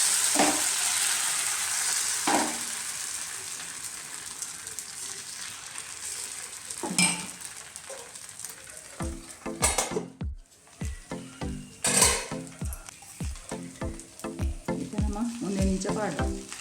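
Neer dosa fries in oil on a hot pan, giving a steady soft sizzle that fades over time. Later, sharp clicks and scrapes from the pan and utensils break through in quick irregular bursts, with no talking.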